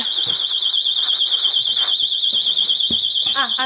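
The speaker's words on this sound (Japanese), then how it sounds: "結構すごいすごい音のブザーが鳴りますね。" A child left-behind prevention device inside a bus sounds its buzzer alarm, a loud, piercing, continuous electronic tone held steady throughout while people talk underneath.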